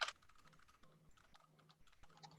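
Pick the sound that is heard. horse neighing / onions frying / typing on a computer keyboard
typing on a computer keyboard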